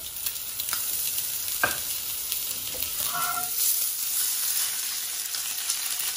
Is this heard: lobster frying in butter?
yes